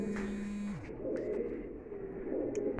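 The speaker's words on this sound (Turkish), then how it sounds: "Gördüğünüz gibi arkadaşlar kuşlarımız bayağı birçok." Pigeons in a coop, a soft close coo gliding downward under a steady background hum, with faint rustles and brief chirps after it.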